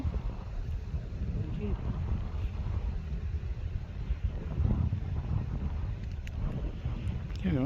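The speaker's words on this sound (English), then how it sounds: "looks very windy out there." Wind blows outdoors at an airfield, a gusty low rumble buffeting the microphone steadily throughout, fairly faint, with no clear voices.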